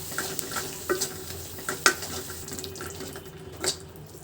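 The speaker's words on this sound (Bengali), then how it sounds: "ধনিয়া পাতা দিয়ে একটু নেড়ে নিব।" Coriander leaves are stirred into eggplant bharta in a pan, giving a soft, continuous sizzle with scattered sharp scrapes and taps of a spoon against the pan.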